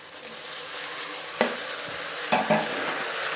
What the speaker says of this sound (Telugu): ఇదిగో టమాటాలు పచ్చివాసన పోయేదాకా వేగించుకోవాలన్నమాట